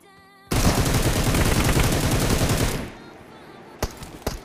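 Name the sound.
gunfire in video game PUBG Mobile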